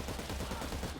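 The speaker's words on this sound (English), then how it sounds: "So, Urban Assault Rifle, full auto," An urban assault rifle rattles off continuous full-auto fire in the video game Cyber Knights: Flashpoint, a dense, steady stream of shots with no talk.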